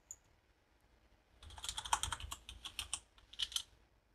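Typing on a computer keyboard while setting up a PHP project starts after a quiet second and a half, then a close burst of rapid key clicks, a short pause, and a final flurry.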